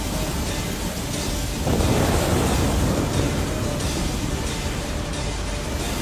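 A storm at sea, with thunder and heavy rain as a sound effect: a dense, continuous roar of rain that swells into a louder rumbling stretch and then holds steady, loud and enveloping, with no voices.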